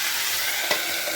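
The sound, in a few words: stirring frying food in a pan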